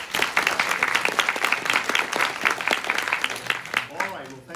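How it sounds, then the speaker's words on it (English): Audience giving a round of applause to a speaker at a joint health talk, distinct individual claps from a modest crowd in a room, steady for several seconds before a voice begins speaking as it trails off. "So let's give him a round of applause."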